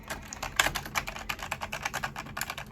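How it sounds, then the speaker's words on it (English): Rapid typing on a computer keyboard, close and clear, with irregular clusters of crisp key clicks and occasional heavier presses continuing throughout without speech. "Are you even typing?"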